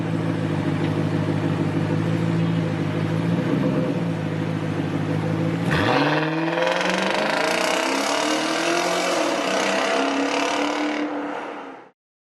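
An Infiniti FX45 performance SUV's V8 engine idles with a steady rumble, then revs sharply and holds a loud, rising drone for several seconds before cutting off abruptly.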